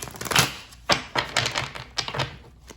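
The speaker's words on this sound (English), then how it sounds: "Let's give it one more shuffle and then a cut." Tarot cards riffle and snap in a quick series of sharp papery bursts, close and crisp, with brief pauses between shuffles.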